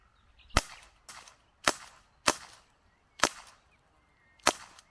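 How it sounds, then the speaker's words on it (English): Six sharp airsoft or pellet gun shots fired at leftover chestnuts on a tree in the woods, evenly spaced about half a second to a second apart, crisp and close with short tails and no talking. "How about we try and shoot these leftover chestnuts off this tree?"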